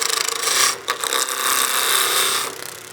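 A skew chisel peels a wood blank on a lathe toward round, giving a steady, close, loud rasping scrape that briefly drops out near the one-second mark and eases off at the end.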